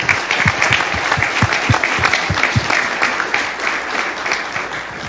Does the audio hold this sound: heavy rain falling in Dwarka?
no